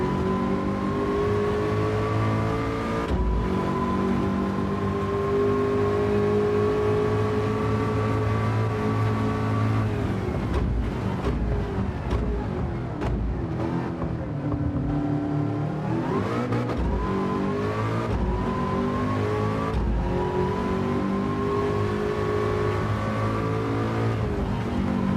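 A V8-engined four-wheel-drive car in Gran Turismo 7 revs loud and continuous, its engine note climbing and falling through gear changes and hard acceleration with no pauses and no talking.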